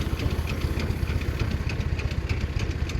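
Small motorized pesticide sprayer engine running steadily in a young three-year-old vineyard, a close, continuous rough idle with a throbbing low pulse and no talk over it.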